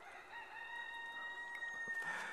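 Cochin chickens cluck and crow outdoors near a bird feeder, a faint, distant rooster crow drawn out over soft background clucking, with no talk.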